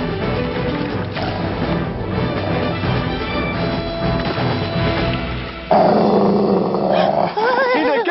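A hunters' dog growls low and continuously under a music score, with a few sharp yips and whimpers near the end in a dubbed animated Ugly Duckling tale.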